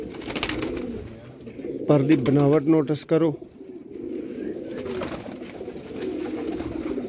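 Sialkoti 'chuhe' pigeons coo softly and repeatedly at close range on a rooftop, while someone talks over the birds.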